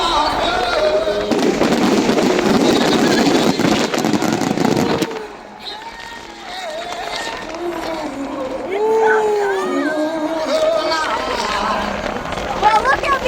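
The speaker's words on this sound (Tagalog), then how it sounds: "Grabe lang fireworks na eh." Fireworks at a country fair burst in a dense, loud, crackling barrage for about five seconds, then give way to a quieter crowd murmur with people talking and scattered sounds.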